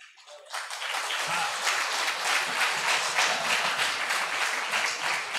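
An audience at a Hindi kavi sammelan poetry recital bursts into applause, dense sustained clapping that swells after a quiet start and carries on steadily, with some talk mixed in.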